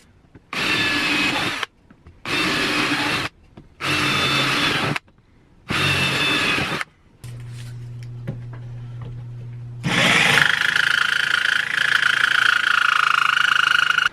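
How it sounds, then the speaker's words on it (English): A power drill with a 5/16 bit whirs in four short bursts with pauses between, followed by a lower grinding hum and then a higher, sustained whine, while installing speakers in a Harley saddlebag lid. "Then you get your 5/16 drill bit."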